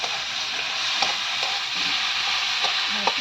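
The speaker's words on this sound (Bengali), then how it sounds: "আর এদিকে ভাজা হচ্ছে বরবটি আলু ভাজা।" Yardlong beans and potatoes fry in a pan with a dense, steady sizzle and soft stirring taps.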